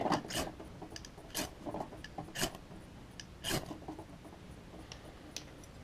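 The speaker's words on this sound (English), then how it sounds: "So it took me 8 scrapes or so, but sometimes I get it on the first time." A striker is scraped repeatedly to light an alcohol-fueled fruit-can gasifier stove, giving several sharp, rasping strokes at an uneven rhythm. The strokes are close but fairly quiet, with no talking.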